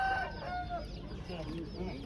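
Chickens cluck and call at a poultry market, with a rooster crowing briefly amid steady crowd noise and background bustle.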